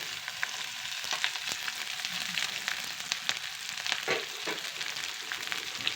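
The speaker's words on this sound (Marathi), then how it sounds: "त्याच्यामध्ये आम्ही बारीक चिरून घेतलेला कांदा टाकूया त्याच्यामध्ये आम्ही दोन मिरची चिरून घेतलेली आहे बारीक सुद्धा टाकून देऊया" Finely chopped onion and two green chillies fry in hot oil for poha, a steady crackling sizzle with scattered sharp pops and occasional stirring scrapes, close and without talk.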